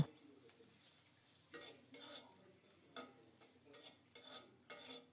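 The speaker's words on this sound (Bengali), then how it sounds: "স্বাদ মতো লবণ দিয়ে মরিচ আর পটল ঢেকে ঢেকে খুব সুন্দর মতো ভেজে নেব" Green chilies and sliced pointed gourd frying in oil with salt, a soft, faint sizzle punctuated by repeated brief scraping stirs in the pan, close but quiet.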